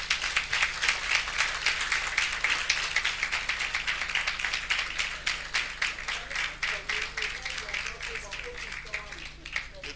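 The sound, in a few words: audience applause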